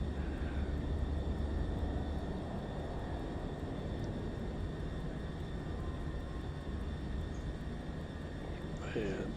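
A DC-3 radial engine in Microsoft Flight Simulator 2024 drones steadily under a constant low rumble, with faint clicks near the end; a person talks over it.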